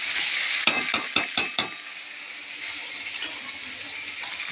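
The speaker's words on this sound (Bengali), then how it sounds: "আলু পটল ভাজা হয়ে গেছে" Potato and pointed gourd fry in hot oil with a steady hiss, and a quick run of five metal clinks from the spatula comes early on.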